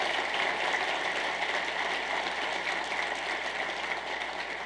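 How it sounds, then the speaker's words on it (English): An audience at an awards broadcast applauds the spouses, a continuous wash of clapping from a large crowd, steady and even, fading slightly toward the end. "let's give a round of applause for all of our amazing spouses here today"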